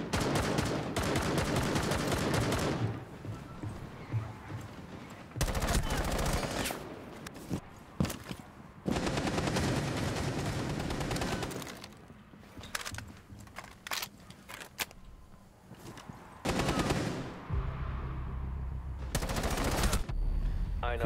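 Loud, rapid gunfire from a video game, aimed at an enemy's head, comes in repeated bursts of close, dense shots separated by brief lulls and quieter stretches.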